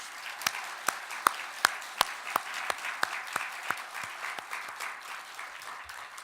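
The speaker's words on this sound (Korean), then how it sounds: "하나님께 영광의 박수를 올려" A church congregation claps during a worship service, a rhythmic unison beat with sharp regular claps that slowly loosen and fade over a few seconds.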